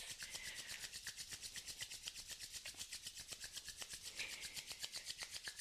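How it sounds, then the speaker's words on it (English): Two palms rub briskly together to build heat and friction during a desk yoga routine, a soft, close, rhythmic swishing of skin on skin repeating about eight times per second. "we'll start to rub the palms together in front of us, creating a little bit of heat and friction between the hands"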